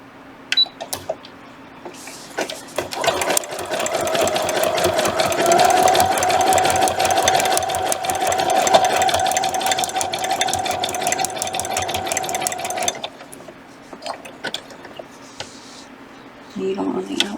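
A sewing machine embroiders a hooded towel, running in a steady, fast, loud whirring buzz for about ten seconds, with slower stitching and clicks before and after and a voice now and then.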